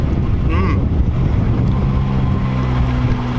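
A small boat sets off on its first sailing, with a steady rumbling engine and rushing water mixed with heavy wind buffeting the microphone throughout.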